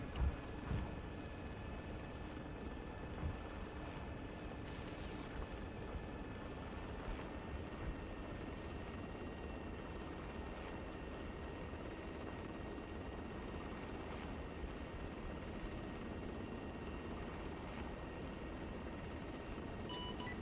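Aircraft taking off at an airfield in the video game Arma 3, a steady loud broadband engine roar with a rotor-like rumble holding constant throughout, no voices over it.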